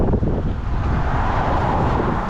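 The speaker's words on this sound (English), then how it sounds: "it just got a bit windy" Steady wind gusting across the microphone, a loud continuous rumble and buffeting with no voices.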